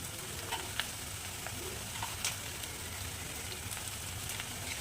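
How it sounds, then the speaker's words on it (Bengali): Whole cumin, chopped onion, green chilli and capsicum frying in hot oil in a wok, an even sizzling hiss with scattered small pops and crackles throughout, close and moderately loud with no voices. "এরপর কড়াইয়ে তেল দিয়েছি, তেল আমার গরম হয়েছে, এর মধ্যে গোটা জিরে অ্যাড করছি।"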